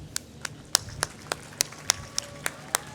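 Audience at a university convocation clapping in sharp, separate claps spaced a few tenths of a second apart, each clap crisp and fairly close, heard over a quiet hall murmur.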